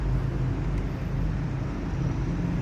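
Ripple tank vibrator machine running steadily, a constant low motor-like hum and buzz with no pauses, close and moderately loud throughout.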